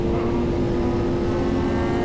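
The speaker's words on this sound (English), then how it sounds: "he's doing wheelies on the M1K with the backpack" BMW M1K superbike engine roaring steadily at high revs while being ridden on the back wheel at a street meet, loud and continuous for a couple of seconds.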